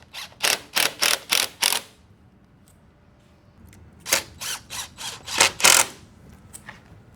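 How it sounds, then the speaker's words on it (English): Weather-coated coarse screws are driven into cellular PVC window-surround trim. Two close, loud runs of short whirring driver bursts, about five or six each, are separated by a quiet pause. "now we're going to attach them with a weather-coated coarse screw"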